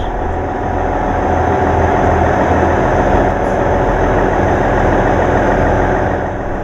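A Class 159 diesel train unit idles at a station, its engine a loud, steady low drone that holds evenly throughout with no voices.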